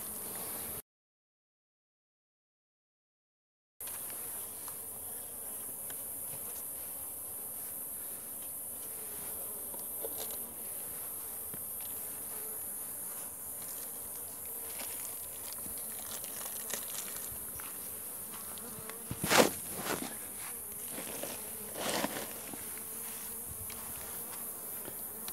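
Honeybees hum steadily at a weak hive during a summer inspection, a soft continuous buzz throughout with a brief silent gap early on and a few louder knocks or handling sounds near the end.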